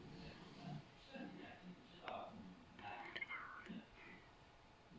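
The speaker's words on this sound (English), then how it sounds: "sorry about that noise. My dad and mom are always talking." Quiet murmuring of two people talking softly in the background, low and indistinct, with faint muffled voices coming and going.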